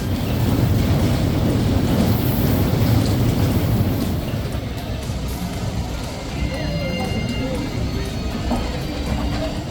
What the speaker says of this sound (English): Now it started downpouring